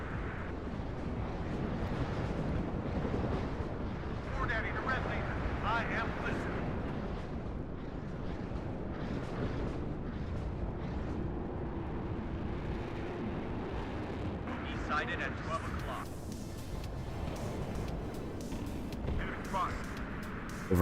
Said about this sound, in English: It's those mortars getting artilleried.